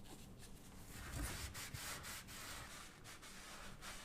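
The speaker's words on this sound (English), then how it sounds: "use a small piece of sandpaper to abrade the first 20 to 30mm of the duct" Small piece of sandpaper abrading the end of a cable duct in a substation, a faint, close scratchy rubbing that rises and falls in short strokes, with no talk.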